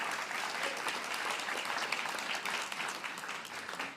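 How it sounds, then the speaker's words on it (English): Audience at a guide dog graduation ceremony for blind handlers giving sustained applause, a dense steady patter of many clapping hands at moderate distance, even in level throughout with no talk over it. "So can we give an applause for them?"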